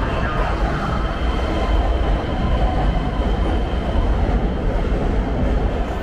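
Keisei Skyliner train at a Ueno station platform in the evening, a steady low rumble of rail and station machinery humming continuously without pause.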